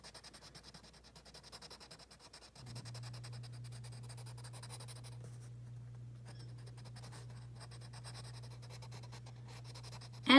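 Coloring in a bar on a hand-drawn bar graph makes a faint, steady scribbling rub of repeated quick strokes. It runs close and quiet for several seconds over a constant low hum, with no talking.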